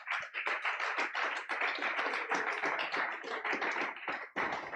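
A church congregation applauds in a dense, continuous burst of hand claps that stays steady and loud for several seconds, with a brief dip near the end before the clapping swells again.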